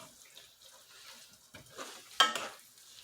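Meat sizzles faintly in a pan, quiet frying punctuated by a few scraping stirs as it is moved around, with one louder clatter near the end; no one speaks.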